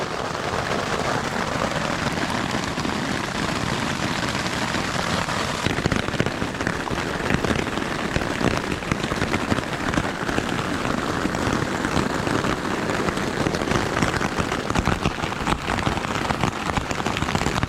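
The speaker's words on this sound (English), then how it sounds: "It's hailing right now." Hail clatters down steadily and loudly on the Colorado Trail, a dense rattling patter on surfaces that holds constant throughout, with no voices.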